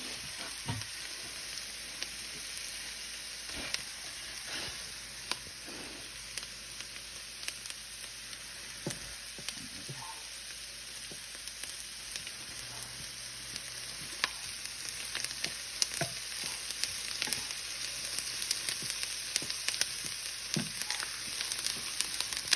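Onions and peppers fry in a pot, a steady close sizzle running throughout with occasional soft stirring scrapes and small pops, growing slightly louder toward the end.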